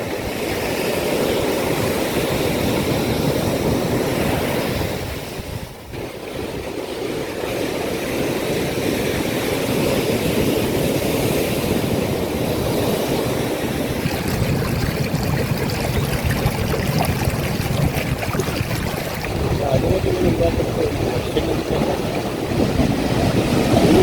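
Heavy sea waves surge continuously against an eroding shoreline at Puthiyavalappu, a dense, roaring wash that rises and falls without pause and with no voices.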